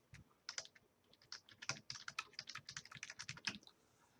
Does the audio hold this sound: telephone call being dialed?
no